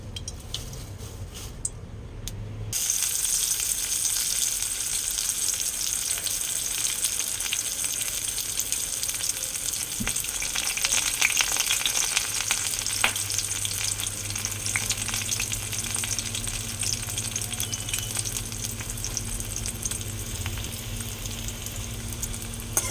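Bay leaves, dried chilies and onion fry in hot oil in a wok for a lentil dal tempering, giving a loud, continuous close sizzle with occasional stirring clicks and no talk.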